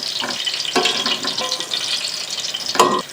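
Seekh kebabs fry in ghee, giving a close, bubbling sizzle with sharp crackles and a few clinking, scraping stirs and taps of a utensil against the pan, with no talk.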